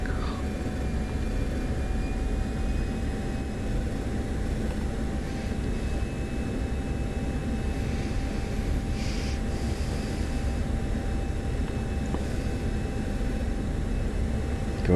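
An F-16 jet engine in the DCS flight simulator, a constant loud broadband roar with a faint steady whine, holding an even level throughout with no talk.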